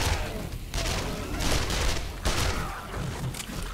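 Gunfire in the zombie survival game 7 Days To Die: dense, loud, continuous shots and booms with little pause, filling the whole stretch.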